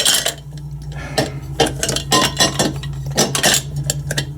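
Metal clanks and clinks in irregular bursts as an old metal coffee pot in a hotel room is handled and knocked about close by, with no talking.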